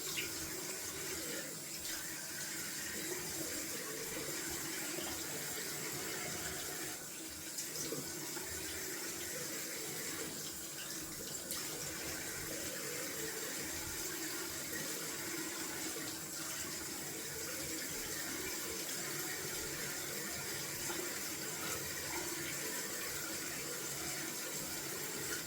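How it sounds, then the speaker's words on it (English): Cold water runs from a tap into a sink while someone rinses after a wet shave, a close, continuous hiss and splash that barely changes over the whole stretch, with brief splashy interruptions and no voices. "I will rinse with cold water."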